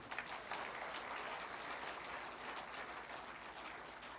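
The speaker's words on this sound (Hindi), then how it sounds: "ताली बजाने में इतना कंजूसी क्यों है?" An audience at an insurance agents' award event claps in a steady, dense round of applause lasting several seconds, fairly quiet and even throughout with no speech over it.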